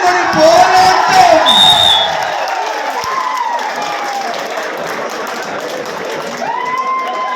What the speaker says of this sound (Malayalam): കൈയടിച്ച് തന്നെ സ്വീകരിക്കണം.